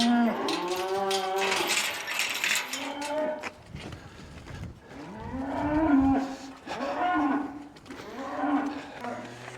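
Cows scrapping on a farm let out loud, drawn-out moos and bellows, several calls in a row with brief pauses between them, close by and clear, with no talking over them.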